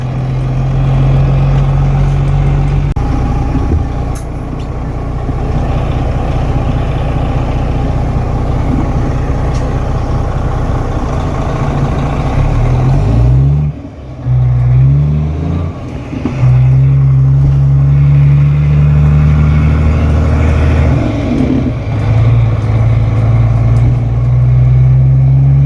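1991 Peterbilt cab-over truck engine droning loud and close while driving, with a deep steady rumble broken by a brief dip and rise in pitch as gears shift midway.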